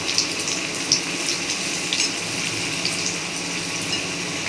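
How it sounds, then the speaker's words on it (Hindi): Veg fish pieces deep frying in oil, giving a constant soft bubbling sizzle at moderate volume with faint crackles and no speech. "बिल्कुल एकदम लग रहा है कि फिश फ्राई ही हो रहा है, एकदम करारा करारा"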